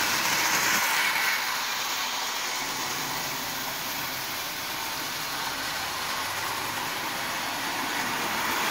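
An American Flyer model train runs on de-rusted, vinegar-cleaned track in a 10 by 4 foot floor layout, giving a steady, fairly quiet mechanical whir and rolling hum throughout, with no talking.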